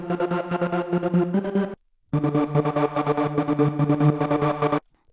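A trance synth lead with tube distortion, delay and reverb, playing a buzzy, harmonically rich rhythmic line in two phrases separated by a short gap, loud and alone.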